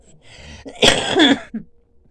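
A person coughs in a few harsh, close bursts, the loudest in the middle and a smaller one trailing after, with quiet before and after.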